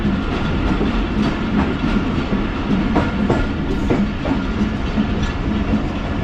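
Pak Business Express train coaches rock and roll along the track as they approach Tando Adam station in Pakistan. A loud, steady rumble fills the whole stretch, with clickety-clack wheel beats over it and no talking.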